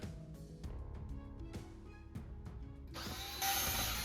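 A power drill backs screws out of a JBL PartyBox 110 speaker in short bursts of whirring, each start-stop clear and close, then a louder, steadier run to finish.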